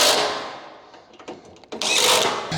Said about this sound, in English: We're going to use an Allen key attached to our impact, and we'll go ahead and drive these in.